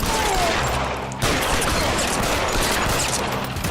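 Gunfire in the video game L.A. Noire comes as dense, rapid bursts of close shots, briefly cutting out and then resuming as continuous fusillade.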